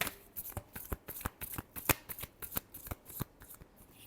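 Tarot cards are shuffled by hand, a quick run of crisp riffling bursts close by and steady, with no voices over them.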